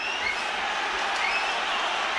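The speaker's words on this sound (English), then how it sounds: "Crowd are booing because they felt there was a late tackle" A stadium crowd at a 2008 rugby match between the All Blacks and Munster lets out a sustained, broad roar of jeers and noise, filling the whole stretch without a break.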